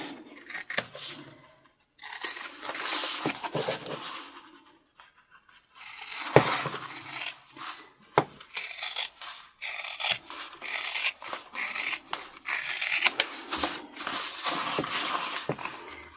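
Scissors trim excess fabric from a sewn bum bag, giving bursts of crisp snipping and rubbing cuts separated by short quiet pauses, close up and moderately loud.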